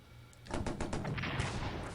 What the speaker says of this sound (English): oh, they've got artillery.